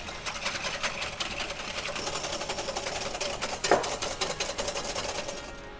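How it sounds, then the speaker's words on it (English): Metal whisk beating cream in a bowl, a fast, even clatter of wire against the bowl, near and fairly quiet, sounding alone without talk. "never underestimate the power of a metal whisk"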